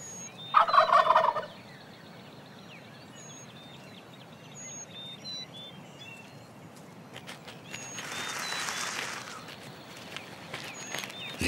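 A wild turkey cock on open prairie brushland gives a loud, close burst of rapid rattling gobbles at the start, and later a softer, hissing gobble-like puff, over quiet background with faint bird calls and a few footstep-like thuds.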